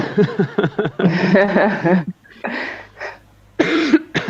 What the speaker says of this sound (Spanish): a pesar de esta tos persistente que me ha acompañado